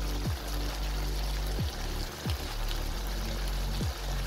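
Half a cup of water goes into a pan of chickpeas being cooked for shola bhuna, making a continuous close pouring and splashing wash with a few low knocks scattered through it.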